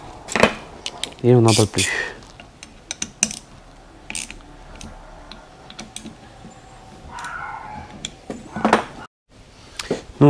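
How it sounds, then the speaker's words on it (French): Ratchet tightening a licence plate bracket on a BMW S1000R motorcycle, heard as short bursts of clicking and mechanical rattles, with someone talking briefly between them. "Et voilà, un petit coup de serrage."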